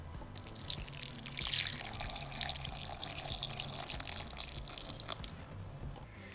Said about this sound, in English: over that I'm going to pour 300 ml, which is about 10 fluid ounces of hot tea